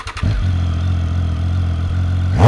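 A motorcycle engine with a throaty aftermarket Arrow exhaust rumbles at a steady idle close by, then a sharp rev rises at the end.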